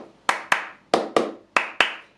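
Six sharp flamenco hand claps ring out in a syncopated pattern, grouped in quick pairs with short gaps, crisp and close with a brief decay after each.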